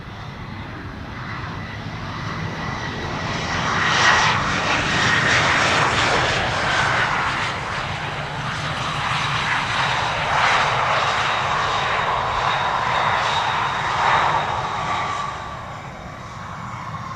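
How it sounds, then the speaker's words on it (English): A Lufthansa CRJ regional jet arriving from Munich at Amsterdam Schiphol passes with a loud, continuous engine roar that swells and eases in two broad waves, with no voices over it. "Lufty Flight 2302 arriving from Munich, CRJ."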